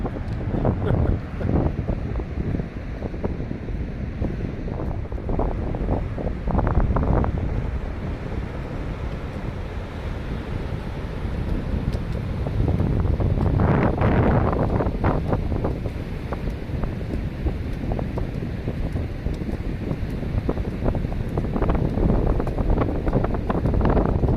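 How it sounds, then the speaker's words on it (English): Waves wash against the shore beneath heavy wind buffeting the microphone, a continuous loud roar with a surge swelling midway. "we're just going to walk back along the shoreline now and listen to these waves"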